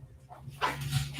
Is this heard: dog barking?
yes